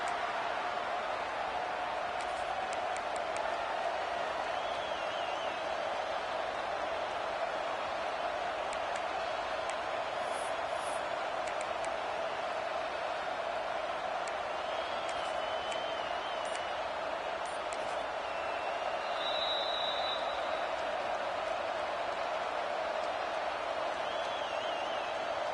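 Stadium crowd roar from the NCAA 26 college football video game during a third-down red zone play, a steady loud wash of massed cheering that holds throughout with faint whistles and shouts rising above it.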